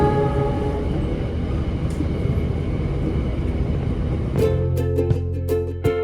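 KA Malabar passenger train running with a steady, loud rumble throughout, then sharper ringing metallic tones and rhythmic clacks toward the end.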